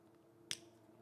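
A motorcycle handlebar switch wiring harness connector on a Street Glide snaps into place, giving a single sharp, close click over a faint background hum.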